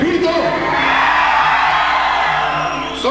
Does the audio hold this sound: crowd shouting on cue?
yes